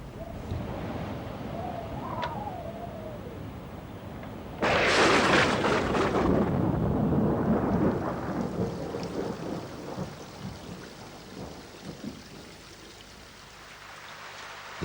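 A thunderstorm with heavy rain in Kenyan pastoral country, a sudden loud crack of thunder rolling into a long rumble over a steady wash of falling rain that gradually fades.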